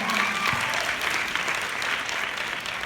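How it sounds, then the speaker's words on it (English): A conference audience claps steadily for several seconds, a full, even rush of applause from a large room, with a brief voice heard near the start and a faint hum under the clapping. "Y'all should clap for"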